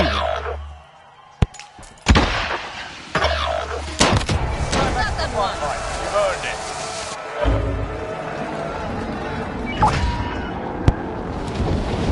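Gunfire in the video game Warzone arrives as loud, sharp cracks and heavier booms scattered over a busy battlefield mix, with several sudden isolated shots. A voice speaks over the action.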